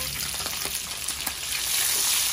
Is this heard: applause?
no